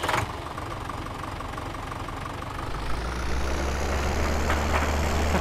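A small tractor engine idles in Farming Simulator 17 on Giants Island, a steady low mechanical rumble that thickens and grows slightly louder partway through, continuous and close with no talking.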